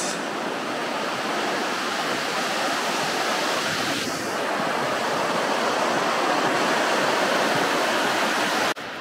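A waterfall on Mount Haguro in Yamagata's sacred mountain forest gives a steady, dense rush of falling water, loud and unbroken throughout with no voices.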